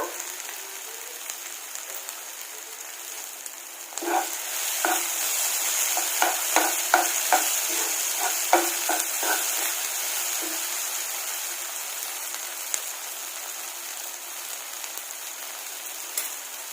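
Chopped tomatoes fry in a pan while quail pepper fry is cooked, a steady sizzle punctuated by a run of sharp spatula taps and scrapes against the pan midway, then settling back to frying.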